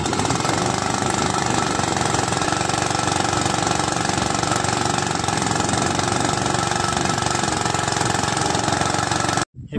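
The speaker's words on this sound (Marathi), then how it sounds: "एवढ्या वरतून पण मशीन खेचते पाणी खालून।" A farm water pump engine on a Konkan farm chugs at a steady idle, drawing well water up through a long pipeline, a loud, close, unchanging drone that cuts off abruptly at the very end.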